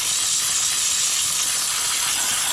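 A household steam cleaner hisses steadily and loudly throughout, a continuous bright rush of escaping steam with no pauses and no talking.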